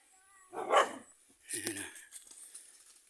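Two short bursts of barking from a bully dog, close by, separated by a brief pause, then a quieter rustling tail.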